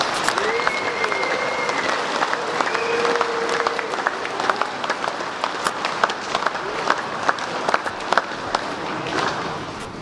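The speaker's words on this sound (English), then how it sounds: "Round of applause for our graduates." A crowd at a graduation ceremony claps in sustained applause throughout, dense and steady, with a voice briefly audible near the start.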